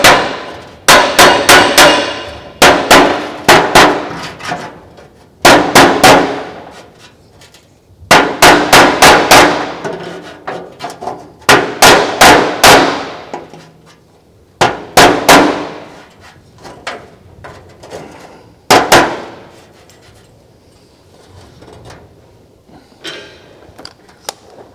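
A hammer strikes a steel fender of a 1934 Ford coupe ute over a dolly during gas weld repair, ringing metallic blows in quick clustered bursts of several hits, loud and close with pauses between groups.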